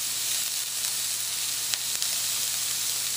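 Onions frying in coconut oil in a hot pan, giving a loud, steady, close sizzle with faint crackles throughout, and no talking.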